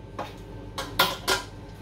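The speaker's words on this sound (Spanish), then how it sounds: "Así que ponemos todos los huevos aquí y batimos." Eggs beaten in a bowl for a chocolate sponge cake, four quick clinking whisk strikes against the bowl at uneven intervals, close and alone.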